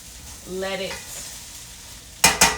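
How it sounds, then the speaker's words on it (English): Cumin lentil rice pilaf is tossed in a pan, with a soft sizzle under a brief voice, then three sharp, loud scraping tosses close together at the end. "I'm doing like that real chef stuff, that let's toss it in a pan type thing"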